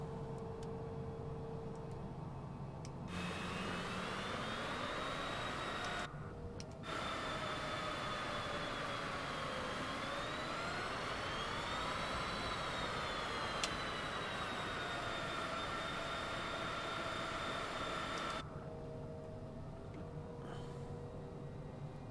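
Steady jet engine roar of a Cessna Citation CJ4 in Microsoft Flight Simulator 2020, with rising whining tones, a continuous synthetic-sounding drone that swells in pitch, briefly cutting out twice.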